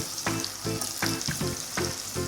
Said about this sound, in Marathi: सर्व साहित्य तेलामध्ये चांगलं परतून घेऊया